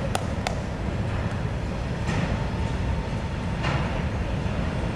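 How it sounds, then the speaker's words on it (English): A train passing near a disc golf course at Pier Park in Portland, Oregon, heard as a steady low rumble with faint clanks and rattles throughout, fairly distant, with no talking. "Classic with the train going by."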